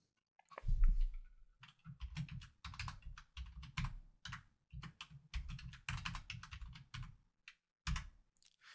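Someone types a password on a computer keyboard: a close, irregular run of crisp key clicks and taps in short bursts with brief pauses, no talking.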